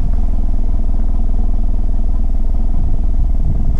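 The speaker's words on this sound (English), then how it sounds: "I love the idle on this thing, it's so cool." Suzuki Swift Sport ZC32S with aftermarket exhaust tips idling up close, a loud, steady, burbling low rumble with a fast pulsing rhythm that holds even throughout, no voices over it.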